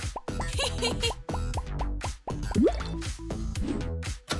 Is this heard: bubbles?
yes